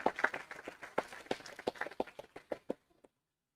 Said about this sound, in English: A warm round of applause once again